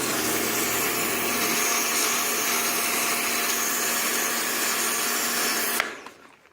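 Compressed air blasts a rusty metal relic during cleaning: a loud, steady, broadband rushing hiss close by that holds for nearly six seconds, then cuts off abruptly into quiet.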